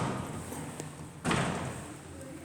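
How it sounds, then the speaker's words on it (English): A door in a hotel in Pisa is pushed shut with a single dull thud partway through, heard against steady room noise and background murmur. "I'll just shut the door here and then we'll move on."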